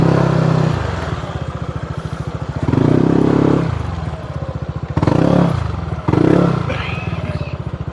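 Motor scooters, including a Falcon 180i, Aerox and NMAX, putter along nearby in Masinloc, Zambales, their engines chugging steadily and swelling in several revving bursts, with faint voices in the background.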